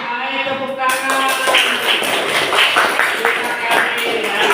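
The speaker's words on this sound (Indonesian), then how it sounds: "Baik, tepuk tangan." Students in a school classroom burst into hand-clapping after a brief voice, a dense, close, continuous round of claps that fills the room for several seconds.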